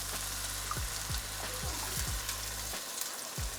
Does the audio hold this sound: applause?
no